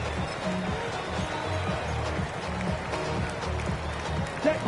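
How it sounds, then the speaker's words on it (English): A stadium crowd of several thousand cheers steadily at a Seahawks home football game as the win is sealed, a broad, continuous roar with voices mixed in throughout. "So several thousand 12th men and women cheering as the Seahawks win at home."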